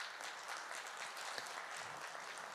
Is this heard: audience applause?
yes